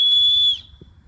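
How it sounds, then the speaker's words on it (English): An emergency whistle on the strap of a Faxon Outdoors Icon 30L submersible backpack gives one shrill, steady blast of about half a second, close and loud, then falls silent. "Also has a emergency whistle on the strap."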